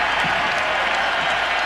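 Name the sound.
crowd ovation for Michael Jordan in Philadelphia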